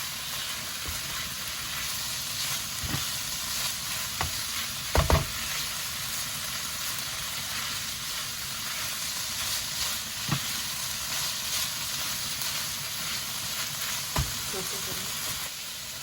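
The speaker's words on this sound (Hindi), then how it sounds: "अब हम इसके अंदर शिमला मिर्च डाल रहे हैं, इसको मिक्स कर लेते हैं" Capsicum tossed into a hot frying pan and stirred, giving a steady broad sizzle throughout with a few sharp spatula scrapes and clanks against the pan; no one speaks.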